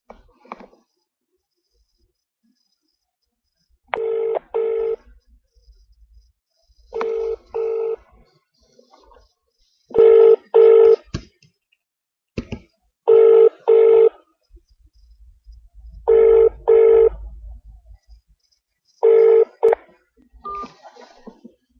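A telephone call being placed: short dial tones followed by a repeated double ring pattern, each burst evenly spaced with silence between, loud and close, with a brief voice near the end.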